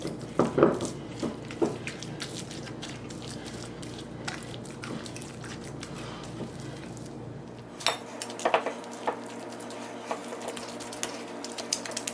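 Egg being mixed into peanut butter cookie dough in a bowl, with repeated spoon scrapes and clinks against the bowl, close and irregular, with no talking.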